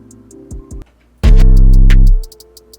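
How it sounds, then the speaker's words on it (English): Quick, crisp hi-hat ticks in a steady pattern over sparse electronic tones, with one heavy, booming bass note sustained in the middle. "So this is what my hi-hats sound like."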